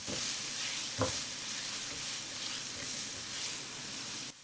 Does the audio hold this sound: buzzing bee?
no